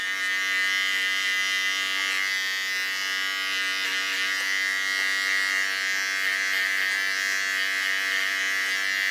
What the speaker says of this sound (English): Using with purpose a small clipper because it is much more in relaxed mode than a large clipper.